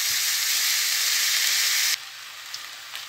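Minced beef sizzles loudly in a hot pan for about two seconds, a steady bright hiss with the scrape of stirring, then the frying drops to a quieter crackle.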